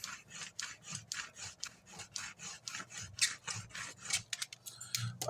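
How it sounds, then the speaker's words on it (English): A brayer rolls back and forth over paper, burnishing it down for a handmade embellishment gift box, giving close, rhythmic rubbing strokes about twice a second. "And burnish everything down real well"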